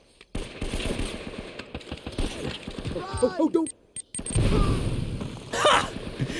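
A red barrel explodes in the video game Uncharted: Drake's Fortune, a booming burst amid gunfire and game noise, with someone talking over the action.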